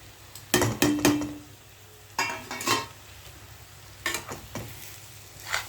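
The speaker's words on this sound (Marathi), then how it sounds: "आता आपण रवा त्याच्यामध्ये परतून घेऊ" Semolina (rava) being roasted in oil for upma, heard as a low crackle under a few separate bursts of stirring and scraping with a light metallic clink, close by with quiet gaps between them.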